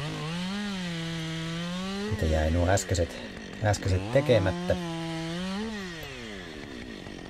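A 50cc chainsaw cuts tree branches nearby, its engine idling in a steady buzz and then revving in several short bursts as it bites. Someone talks over it.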